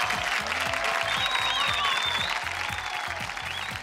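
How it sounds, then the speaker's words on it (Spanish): Studio audience applause during a live Spanish-language television programme, heard as steady clapping under a continuous musical backing with a rhythmic low beat, the clapping moderately loud and constant. "¡Fuerte el aplauso!"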